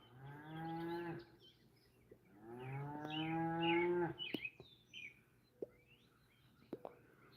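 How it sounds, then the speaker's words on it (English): Cattle in a field give two drawn-out moos, one rough and braying like a donkey, followed by scattered faint clicks and small bird-like chirps in a quiet outdoor setting. "That one cow sounds like a donkey."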